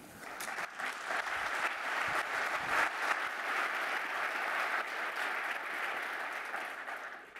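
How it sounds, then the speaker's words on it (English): Audience applause after a product demo on stage at the Automation Fair 2016, fairly quiet and distant, rising to a steady patter of many hands and tapering slightly at the end. "Maybe give them a round of applause."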